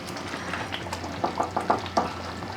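Mattar paneer curry bubbles in a pot, a series of soft, thick blips and pops repeating irregularly over a low background hum.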